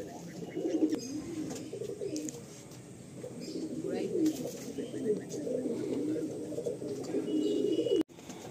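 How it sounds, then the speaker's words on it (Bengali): A Giribaz pigeon coos inside a loft among other birds, low rolling coos repeating in bursts close by, with faint background chatter and a sharp knock near the end. "এই একটা গিরিবাজ পায়রা"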